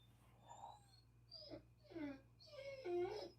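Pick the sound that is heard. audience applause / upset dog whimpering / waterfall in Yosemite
upset dog whimpering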